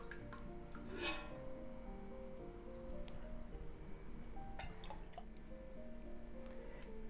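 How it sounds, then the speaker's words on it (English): Syrup is poured into jars of figs for canning, giving faint, soft drips and sticky liquid squishes that run steadily for several seconds. "So we'll get them close and we'll top them up with syrup"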